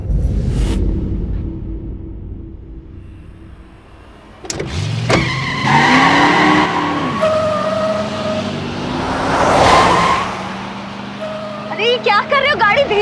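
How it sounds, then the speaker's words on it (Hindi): A taxi speeds along a Delhi road, engine and road noise rising with a sudden surge and a swelling rush midway, while tonal voices and dramatic sounds sit over it. "अरे ये क्या कर रहे हो? गाड़ी धीरे चलाओ प्लीज।"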